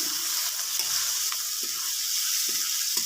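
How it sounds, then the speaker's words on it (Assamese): Potatoes frying in oil in a pan for a fish dish, a steady close hiss of sizzling with occasional soft spatula scrapes and knocks. "এতিয়া আলুখিনি ভালদৰে ভাজি ল'ম।"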